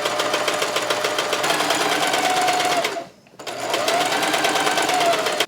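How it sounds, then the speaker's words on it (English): A sewing machine stitches shirring lines across a top, running as a steady, close mechanical whir with rapid needle rhythm, briefly stopping near the middle before resuming. "I'm gonna start sewing all these lines"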